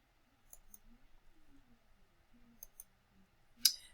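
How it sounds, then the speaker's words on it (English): A computer keyboard gets a few scattered keystrokes in a quiet room, with sparse sharp clicks spaced apart and one louder tap near the end. "I'm sorry about the typing."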